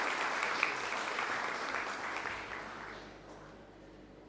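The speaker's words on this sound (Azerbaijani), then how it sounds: "Dəyərli Həzrət Bəy, sizi səhnəyə dəvət edirik alqışlarınızla." Audience applause at a Cambridge certificate award ceremony as a guest is invited onto the stage, with a steady wash of clapping from a hall crowd that slowly thins and fades toward the end.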